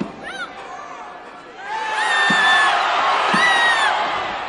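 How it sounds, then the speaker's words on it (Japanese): Large arena crowd of about twenty thousand at the Olympic Auditorium in Hollywood for a 1970 professional wrestling match, cheers and whoops swelling into a loud sustained roar. "ジンキニスキーがロープをつかみますと大変な歓声が沸き起こります。"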